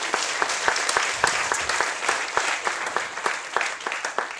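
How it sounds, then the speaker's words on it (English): Audience applause for a speaker at a university thesis presentation event, many hands clapping in a crisp, moderately loud burst that stays steady throughout. "give Juhi a round of applause"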